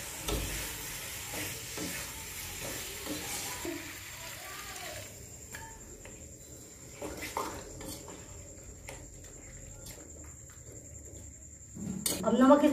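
Cut potatoes frying in spiced masala with the oil released, a steady sizzle under scraping and clinking as a spoon stirs the pan, with a voice talking over it.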